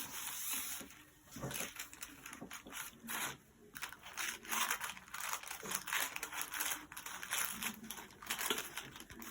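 Paper pieces being cut out by hand for a sunset jar lantern craft, a steady run of close, soft crinkling and snipping rustles with brief pauses, no talking.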